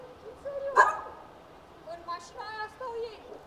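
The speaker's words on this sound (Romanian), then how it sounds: "Acum vin câinii după noi." Stray dogs near a parked car in Bucharest give a loud bark followed by a few softer yips and whimpers, slightly distant, with a person talking over them.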